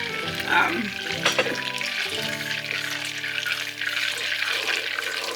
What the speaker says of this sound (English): Now the milk solids are also frying a little bit in the oil.